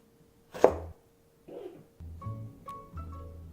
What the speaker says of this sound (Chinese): 把青椒的头砍下来